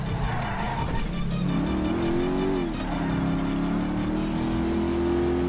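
A big motorcycle engine in Grand Theft Auto V, with a loud, steady revving drone that climbs in pitch and holds close throughout, along with some tire noise.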